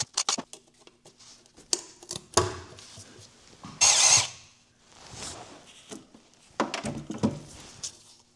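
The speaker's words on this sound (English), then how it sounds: "I'm going to take all my 10 millimeter bolts out." Removing 10 millimeter bolts from a Dodge Caliber transmission pan, with several short bursts of a power tool or ratchet whirring between clicks and metallic handling noises, close and intermittent.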